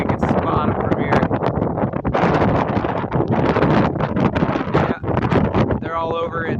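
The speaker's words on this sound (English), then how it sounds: "Man, that was some wind." Strong gusts batter an outdoor microphone near a sandbox where kids play, producing heavy, uneven rumbling bursts that rise and fall for several seconds, with a voice partly heard under the buffeting.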